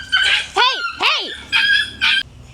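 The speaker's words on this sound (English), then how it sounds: "This freaking dog that was walking with Sophie and I just attacked the little chihuahua" A dog yelps, barks and whimpers after an attack on a chihuahua during a street walk, several sharp close cries and whines in quick succession.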